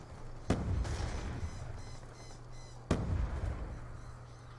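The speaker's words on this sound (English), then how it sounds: "I got the first shot off, but I couldn't get the kill off" Gunshots in Call of Duty Black Ops 2 multiplayer: two sharp, loud single shots about two seconds apart, plus a third at the very end, over steady in-game background noise.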